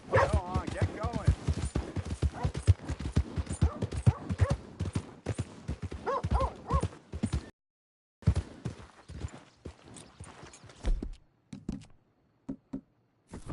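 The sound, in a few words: horse walking, hooves clip-clopping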